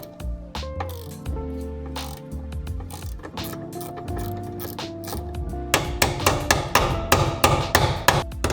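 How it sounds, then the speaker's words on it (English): Sharp metallic knocks of a ratchet wrench used as a hammer on a big washer in a BMW E30 door panel, mixed with ratcheting clicks, the strikes growing faster and heavier toward the end, close and loud. "you just did not see me using my ratchet as a hammer"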